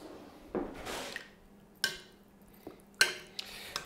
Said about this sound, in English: I want to stir that in